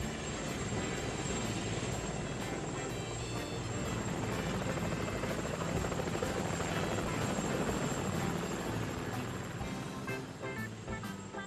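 Helicopter in flight in a Hindi animated cartoon, a loud, continuous rotor chop and engine whine held steadily close throughout, with no clear speech over it.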